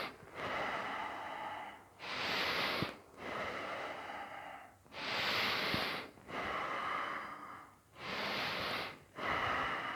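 Slow, deep breaths during a yoga session, alternating long inhales and exhales in a steady rhythm, close and fairly loud, with no talking.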